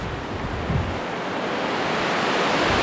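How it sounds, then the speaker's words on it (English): A steady, broad rush of falling water roars continuously, even and unbroken, with some wind noise on the microphone; a waterfall at Trollstigen, Norway. "There's a waterfall back there."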